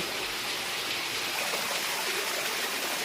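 Steady rushing water from a waterfall at the Thotapalli Shiva temple in Kakinada district, a dense even hiss that runs unbroken and fairly close, with no voices.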